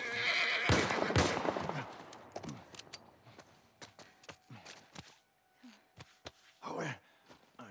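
A horse in The Last of Us Part 1 gives a loud, shaky whinny near the start, followed by scattered snorts, hoof knocks and breathy sounds.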